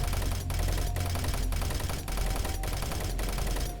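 Rapid automatic gunfire from a Doom 3 weapon sound rattles on continuously in evenly spaced bursts, loud and dense, with a brief gap roughly every half second.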